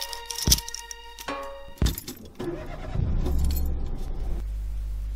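A car in a film scene: car doors opening and slamming, with clicks and jangling keys, followed by an engine starting and a low idle rumble near the listener.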